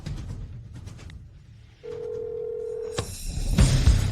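A telephone gives one steady electronic tone for about a second against low background noise, cut off by a sharp click and followed by louder rustling and movement; no one speaks.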